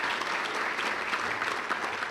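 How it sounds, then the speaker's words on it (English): Audience applause at a downtown association annual awards event, a dense steady wash of many hands clapping at close-to-moderate distance, sustained evenly with no voices over it. "Let's give her another round of applause."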